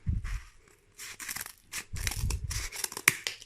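Scissors crunch and tear through stiff foam board in several rough, close bursts, with short pauses between cuts.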